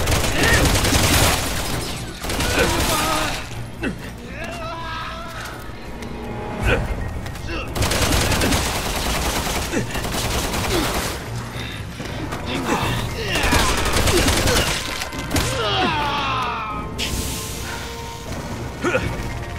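Dense gunfire and crashing impacts from a Resident Evil 6 firefight, bursts of shots and booms repeating loudly across the scene with voices talking over the combat.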